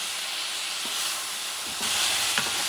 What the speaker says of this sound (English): And mix stuff up and cook for about 2 minutes, okay?